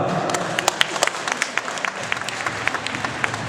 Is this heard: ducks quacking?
no